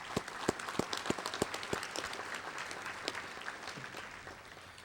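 A sports hall of fame induction audience claps, with distinct individual claps up close at first, then thinning into a quieter, scattered round of applause.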